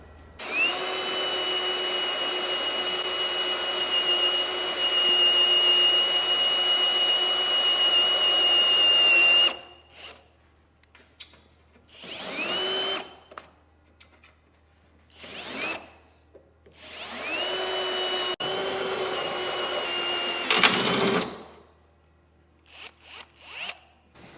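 A power drill runs nearby on a wrecked Mitsubishi 3000GT Spyder in a long steady whine, then stops; several shorter bursts follow with quiet gaps between them, loud and close.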